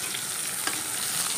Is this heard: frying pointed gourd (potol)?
yes